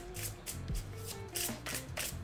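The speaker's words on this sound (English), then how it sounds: "we're just gonna shuffle her right here and ask for a card to come out" Oracle card deck being shuffled by hand, giving repeated soft papery riffling bursts in an irregular rhythm, close up with no talking and a faint steady hum underneath.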